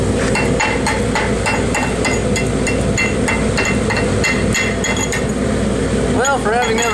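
A chipping hammer knocks slag off a dual shield flux-core weld, a close, loud series of sharp metallic taps in a quick uneven rhythm over steady shop noise, with a voice near the end.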